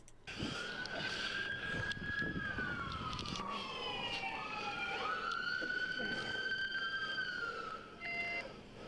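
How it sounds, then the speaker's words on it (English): Police car sirens wail and shift pitch as they draw near, with overlapping tones that hold loud and steady over background rumble while people talk. "Backup is getting close. We can hear the sirens."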